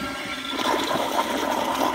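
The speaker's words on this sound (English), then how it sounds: "here's the flush" A Kohler Kingston toilet on a flushometer flushes with a weak, steady rush of water lasting a couple of seconds, close and continuous.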